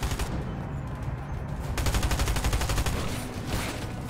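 Bursts of rapid gunfire in Fortnite crackle in quick succession, with a dense run of repeated shots in the middle, moderately loud against a noisy background.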